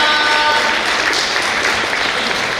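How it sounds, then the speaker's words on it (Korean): Audience applause at a Korean biennale forum greets city council members, a dense steady wash of many hands clapping at close range, loud and continuous with a faint voice briefly over it. "시 의원 여러분들을 위해서도 다시 한번 큰 박수 부탁드립니다."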